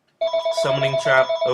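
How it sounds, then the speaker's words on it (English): A telephone rings with an incoming call, a clear electronic ringtone with repeating bursts, loud and close, with someone speaking briefly over it. "we're getting a phone call here"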